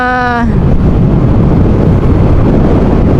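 Loud, continuous wind roaring across the microphone, buffeting steadily throughout after a brief tonal engine-like hum at the start.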